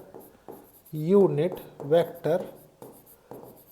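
Writing on a board during a maths lesson on vectors, with scratchy strokes mixed under a teacher's close, steady speech.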